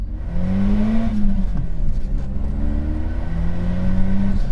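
A small car engine drones and revs, pitch rising and dipping in several pulls, loud and close throughout; a K-Car engine in a 2006 Carver One.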